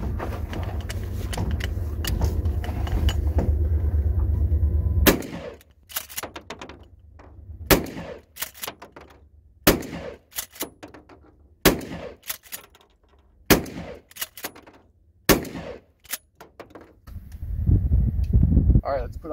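A shotgun fires 2¾-inch target loads outdoors, sharp loud blasts spaced a second or two apart, about eight shots, with wind noise and handling sounds between them.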